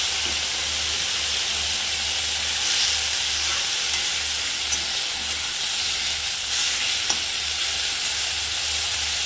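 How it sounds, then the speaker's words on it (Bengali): Drumstick (sajna) greens frying in a pan give a steady, close sizzle and hiss that runs unbroken, with faint stirring scrapes and no talk. "দেখো সজনা শাক ভাজাটা হয়ে গেছে"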